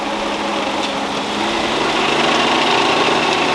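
A drag car with a 727 transmission and trans brake running hard on a dyno in second gear, a loud, constant engine drone that builds slightly in intensity with no breaks.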